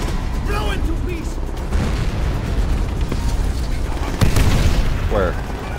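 A fuel tank blows up in the World War II shooter Call of Duty: World at War, a sharp booming blast near the end amid steady battlefield rumble, gunfire pops and shouted voices.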